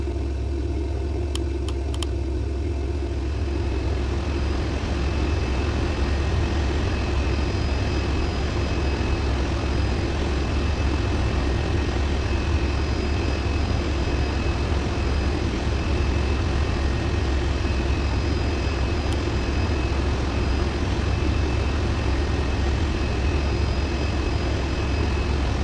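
Engines of a Norwegian Boeing 737 MAX 8 starting up at Berlin airport in snowy weather, heard as a constant loud low roar and whine with steady tones, unbroken throughout.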